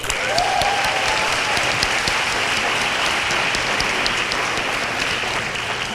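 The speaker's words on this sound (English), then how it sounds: "Can we get a round of applause for PHSC?" An audience applauds at an adult education graduation ceremony in 2018. The dense, sustained clapping holds a steady level for the full six seconds, with no voices over it.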